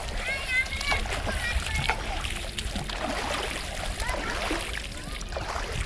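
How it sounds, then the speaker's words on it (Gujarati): Water splashes and sprays at a water park while children and adults talk and call out nearby, the irregular splashing mixed in with the lively voices. "પાણી ઉડાડો તો મસ્ત લાગે"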